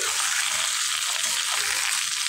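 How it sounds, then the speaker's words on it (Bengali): Vegetables, including pumpkin or carrot, sizzling steadily as they are stirred and mixed in a hot pan, a constant close, loud crackling hiss with no voice. "দেখুন, খুব ভালো করে মিশিয়ে নিচ্ছি, নাড়াচাড়া করে নিচ্ছি।"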